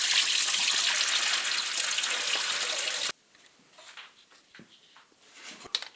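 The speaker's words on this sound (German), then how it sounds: "kann immer noch ein Schwall Wasser rauskommen" A loud rush of coolant water pours out steadily for about three seconds as the water pump is removed from a VW Polo 6N2 1.0 MPI, then cuts off, leaving quiet drips and faint clattering.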